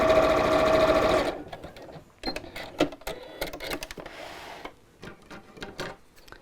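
Sewing machine stitching bias binding from one corner to the other, running in a fast, steady whir for about a second before stopping, followed by clicks, taps and fabric handling close by.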